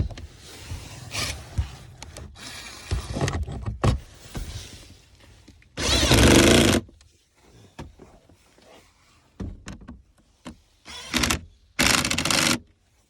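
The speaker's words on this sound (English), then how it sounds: "Align the bottom screws first and tighten." A power tool tightens the lower glove box screws on a 2017 Ford Fusion, with several short, loud whirring bursts of a second or so each, separated by pauses filled with soft handling noises and no talk.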